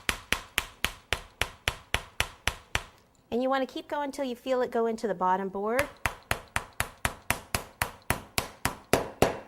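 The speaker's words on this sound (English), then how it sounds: "you need to use a little tack hammer or something like that" Small tack hammer tapping a support dowel down through stacked cardboard cake boards, a steady run of sharp, evenly spaced knocks that pause while a woman explains, then resume in a quick regular rhythm.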